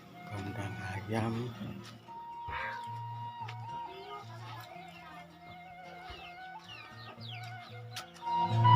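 Chickens clucking in a rural village coop by the Babakan Surupan riverside, several birds calling in short repeated clucks and squawks, fairly close, with people talking nearby.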